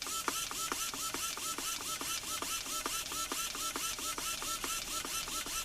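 Small RC servos from WPL, JX and AFRC whir back and forth together in a fast, regular rhythm, each sweep a short mechanical buzz repeating about four times a second, moderately quiet and close.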